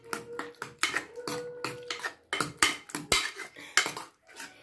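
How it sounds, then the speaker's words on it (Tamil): A ladle mashes cooked radish in a pot for a simple kootu, producing a run of close, sharp metallic clinks and scrapes in an uneven rhythm, with no voices. "இப்போ கரண்டியால் நீங்கள் மசிச்சு விட்டாலே போதும்"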